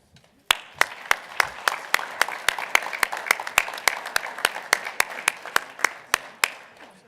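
A conference general session audience bursts into steady applause, dense clapping from a sizable crowd that holds at an even level for several seconds.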